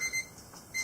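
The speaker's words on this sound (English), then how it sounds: "Okay, there's the alarm. 15 minutes left in the boil." A Robobrew brewing system's boil timer alarm beeps in short repeated electronic pulses, fairly quiet and close, alone with no talk.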